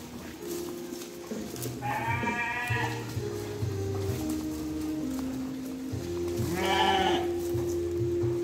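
Sheep bleat in two clear bursts amid a steady background of rumbling activity and movement while rams of 30 kg and up are loaded for transport, each bleat near and loud.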